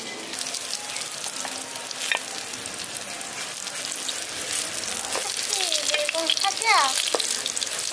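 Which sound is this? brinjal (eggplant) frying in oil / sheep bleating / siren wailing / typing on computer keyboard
brinjal (eggplant) frying in oil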